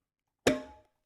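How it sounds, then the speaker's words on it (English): A single cowbell hit from a loop library in Studio One 5, one sharp metallic clank with a ringing tone that decays within about a third of a second, heard alone. "Cowbell."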